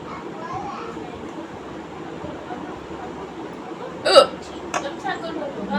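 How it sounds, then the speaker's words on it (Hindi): A woman hiccups sharply once, near and loud, followed by a couple of smaller catches of breath, over a low murmur of background chatter. "मुझे हिचकी।"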